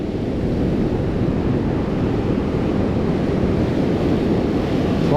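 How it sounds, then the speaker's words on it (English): Big ocean waves roll in and break along a surf-fishing beach, a steady, loud, unbroken roar of churning surf with wind noise across the whole stretch and no voices. "Big waves coming."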